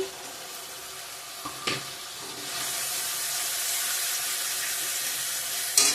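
Chopped green chillies frying in oil in a pan, a steady broadband sizzle that swells louder partway through, with a few brief clinks and scrapes of a utensil.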